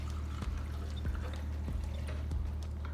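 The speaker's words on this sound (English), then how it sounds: "I always give the roots a rinse to get rid of any lingering dirt and stuff that might be on it from the previous water." Water pours steadily while plant roots are rinsed clean of old dirt, a soft continuous splashing trickle with a few brief knocks, close by and with no talking.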